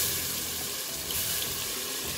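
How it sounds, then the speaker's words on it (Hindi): Water poured from a cup into a cooking pot holding boneless beef and whole frozen tomatoes for biryani, a steady close splashing rush lasting about two seconds with no talking. "इसमें मैंने 1 कप पानी ऐड किया।"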